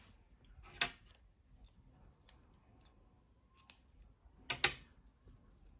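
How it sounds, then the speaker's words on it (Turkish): Scissors snip through white yarn during crochet work on a baby's winter dress: two crisp, close cuts a few seconds apart, with faint small clicks between them in an otherwise quiet room. "Beyaz renkli ipliği kesiyorum."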